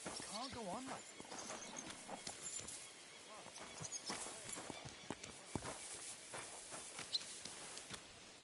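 A horse whinnies near the start, then hooves clop and shuffle irregularly with snorts and movement, fairly quiet and close, while people talk in between.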